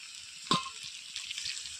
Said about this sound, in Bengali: চলো এবার অল্প করে একটু ঝোল অ্যাড করে দিই।